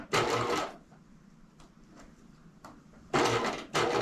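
A sewing machine stitches through several fabric layers beside snap tape in short, close bursts of whirring, separated by quiet pauses with faint clicks.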